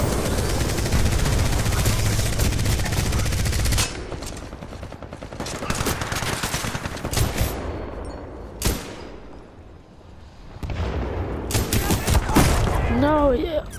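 Rapid automatic fire from the Devotion gun in Titanfall 2, loud sustained bursts that break off and resume in shorter volleys amid game effects, with a voice talking in places.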